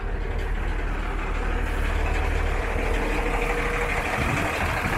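Buses rumble along a street in Belize, a steady low engine drone and idling noise close by with traffic hum and no talking.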